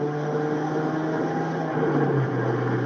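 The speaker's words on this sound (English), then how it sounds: "Oh, wind noise." Steady wind roar and road hum inside a moving Ford Focus ST, a continuous broadband rush with a low drone, no talking over it.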